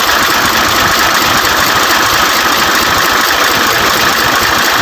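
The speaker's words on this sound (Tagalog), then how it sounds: "Talagang uugong yung makina." A loud, overheating car engine idles with a steady, rough hum and faint knocking rattle, close and continuous throughout.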